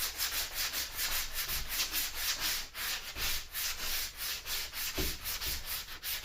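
Rhythmic back-and-forth sanding on a vintage children's wooden rocking chair, close and fairly quiet, with steady repeated rubbing strokes and no talking.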